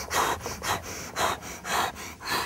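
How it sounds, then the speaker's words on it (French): Rapid, forceful breathing during an isometric Systema-style push-up hold, close and clear, with about five quick breath cycles in rhythmic bursts and no talking. "Dès que ça sera un peu plus dur, j'accélérerai la respiration."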